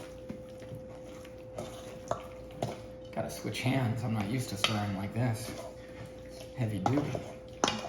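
Chicken tikka masala is stirred in a pot, with a spoon scraping and knocking against the metal in uneven strokes while someone talks over it.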